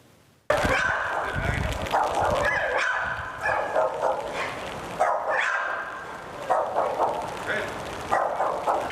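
Dogs bark repeatedly in short, agitated bursts, fairly close, with voices talking over them.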